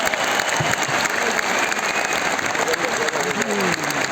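Loud, dense applause from a large audience at a Vestige business event, sustained clapping across the whole stretch with faint vocal sounds mixed in and no pause.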